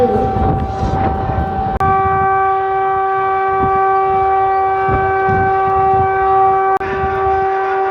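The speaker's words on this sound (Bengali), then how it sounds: "তার আগে শঙ্খধ্বনি বাজানো হচ্ছে।" A conch shell is blown in a long, steady tone held for several seconds, loud and sustained, at the inaugural run of the Bhagalpur–Howrah Vande Bharat Express, after a brief stretch of crowd noise at the start.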